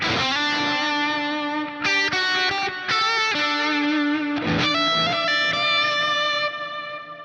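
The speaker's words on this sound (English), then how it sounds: "We need a reverb. Let's go for Cave." A distorted electric guitar plays a sustained lead line through a Quad Cortex with a Cave reverb, long ringing notes and a spacious, echoing reverb tail, loud and alone.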